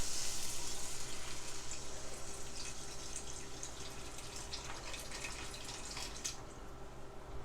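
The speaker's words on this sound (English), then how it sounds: "we'll add just a little bit of beef stock" Beef stock poured into a pot of cooking Appalachian beef and vegetable soup, a continuous close watery pour and splashing over a faint simmering hiss, steady throughout with no voices.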